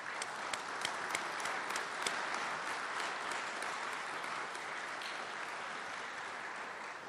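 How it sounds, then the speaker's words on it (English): Round of applause for a foundation's staff at an annual community report address, even, continuous clapping from a large audience heard at moderate distance. "Please join me in showing our appreciation with a round of applause."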